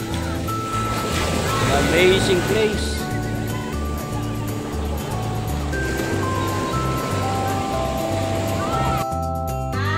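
Ocean surf rolls onto the beach at Baler, Aurora, a steady broadband wash under a voice talking throughout, with a thin tonal hum running along and a brief rustle near the end.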